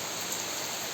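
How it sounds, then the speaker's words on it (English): Heavy, destructive rain pours steadily, a dense and continuous broadband hiss filling the whole short stretch with no breaks or voices. "the rain has started once again, and it's becoming destructive"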